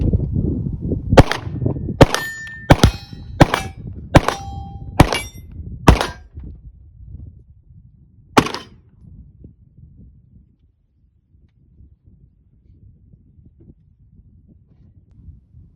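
Pistol shots ring out against steel targets set about 30 and 40 yards away during vehicle-based shooting practice: about eight sharp, loud reports at uneven intervals, each paired with a metallic clang, followed by quiet wind.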